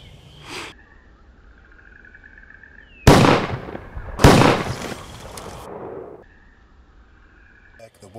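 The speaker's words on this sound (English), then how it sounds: "I'm gonna take the shot at the tom that's out front." A shotgun fires during a spring turkey hunt in Michigan woods, two loud sharp blasts a second apart with echoing decay through the trees, heard close and alone after a faint earlier pop.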